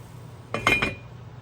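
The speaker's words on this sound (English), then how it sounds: "And I'm going to cover it and cook again." A lid set onto a pot of clams cooking in white wine garlic butter, a short metallic clink and rattle of a couple of quick contacts, close and clear against a quiet kitchen background.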